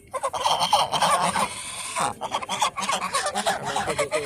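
Geese honk in a busy cluster of overlapping nasal calls, fairly close and continuous, with a brief lull around the middle before the calls resume.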